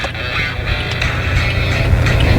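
A used Toyota Vios 1.6 automatic accelerates hard, its engine droning loud and close from inside the cabin and building steadily in volume.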